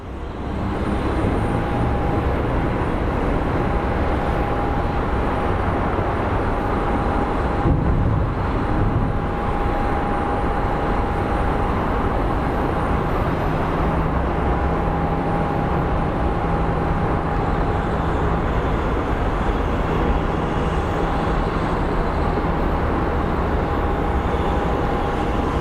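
Airliner making a go-around at Phoenix Sky Harbor International Airport after a low pass by the tower to check its landing gear, a steady loud roar of jet engine noise throughout with a sustained tonal whine.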